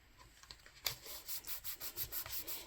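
Taped paper rubbed firmly onto a card by hand, a close, steady series of short scraping strokes in an even rhythm, quiet, with no talk.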